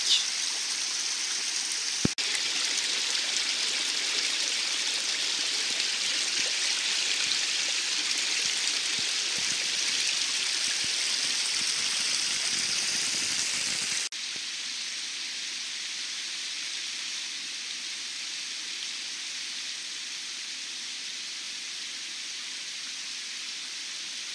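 A small stream in a woodland bushcraft campsite flows with a steady, full rushing hiss, continuous and close, easing slightly softer partway through, with no voices.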